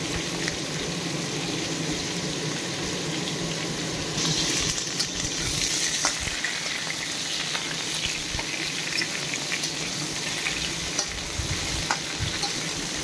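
Potato pieces fry in a pan until golden brown, a steady close sizzle with a louder burst of crackling midway and occasional stirring clinks, no talking.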